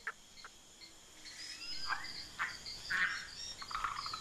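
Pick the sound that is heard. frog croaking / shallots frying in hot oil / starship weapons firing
frog croaking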